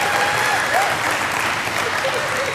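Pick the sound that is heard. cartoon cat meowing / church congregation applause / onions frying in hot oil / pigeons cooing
church congregation applause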